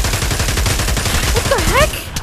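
Rapid, dense gunfire from the VR shooter Pavlov in zombies mode, a continuous loud rattle of shots with brief whistling tones near the end.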